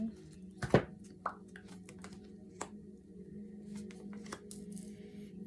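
Soft papery riffling and light taps of a deck of cards being shuffled during a card reading, quiet and close, with one sharper snap early and scattered small clicks after.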